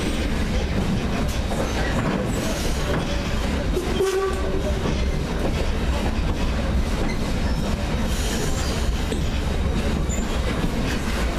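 Baldwin No. 26 steam train rolls along the track with a steady, dense rumble and clatter, a brief squeal or horn-like tone rising once midway, loud and continuous throughout.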